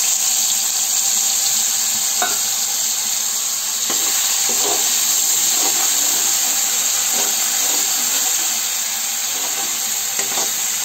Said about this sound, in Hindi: तेल हमारा गर्म हो गया उसके बाद जो हमने मसाले पीसे हुए थे वो डाल देंगे